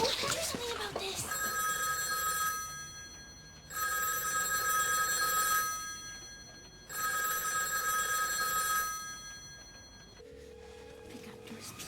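Telephone bell ringing in repeated bursts of about two seconds with short gaps, loud and close, beside a panicked phone call in the comedy Ratz, with a voice briefly at the start and a tone at the end.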